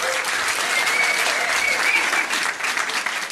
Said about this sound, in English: Anyway, give them a big round of applause.